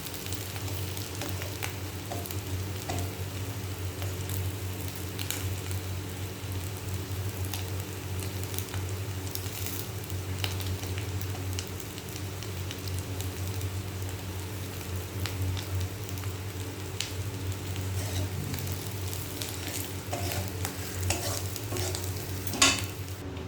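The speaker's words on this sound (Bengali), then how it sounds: "ছোটো মাছের মাথাগুলো এরকমভাবে পেঁয়াজ দিয়ে ভাজা, পেঁয়াজের কাঁচা লঙ্কা চেরা দিয়ে।" Small fish heads fry with onion and slit green chillies in oil, a constant close crackle and sizzle that runs unbroken for the whole stretch, with scattered sharp pops and a low steady hum underneath.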